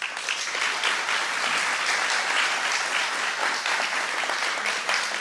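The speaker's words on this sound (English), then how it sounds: "Can we please give Pastor Larson and the church an appreciation round of applause?" A congregation applauds the pastor and church during a memorial celebration of life at New Hope Church. Continuous, even, full-room clapping holds at a steady level throughout.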